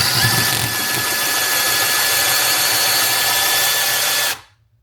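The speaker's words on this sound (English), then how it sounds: "So today I got this 12-piece diamond blade set drill hole saw." Power drill spinning a diamond hole saw bit into marble tile, a loud continuous high-pitched grinding whine with faint squeal, steady for about four seconds before stopping abruptly.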